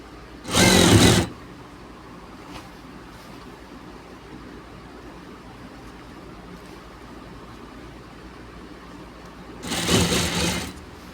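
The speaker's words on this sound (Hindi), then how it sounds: "इसके अंदर ओवरलॉक करनी है, फिर ऊपर से इसमें लब की सिलाई लगा देंगे" A sewing machine overlocks and stitches a gents' shirt in two short bursts, one at the start and one near the end, loud and close, with quiet room noise in the long gap between.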